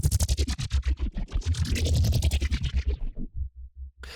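Two layered Serum synth patches play together in a Radium sampler as a rapid run of pulsing, rhythmic notes that swell and then thin out near the end, with no voices.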